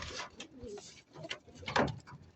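Racing pigeons coo softly near by, with wing flutters and scuffling as several birds return and settle in.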